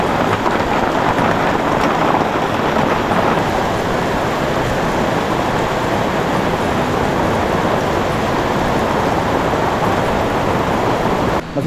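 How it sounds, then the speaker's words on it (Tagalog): Heavy rain pours down in a loud, dense, unbroken hiss that stays constant throughout, with no other sounds rising above it. "patuloy pa rin ang paglakas ng ulan"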